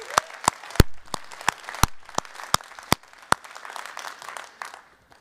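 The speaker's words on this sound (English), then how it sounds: "Let's give a huge round of applause for that." Sparse, distinct claps from a smallish audience at a conference, sounding like individual hands close by over a thin bed of softer clapping, without a full roar.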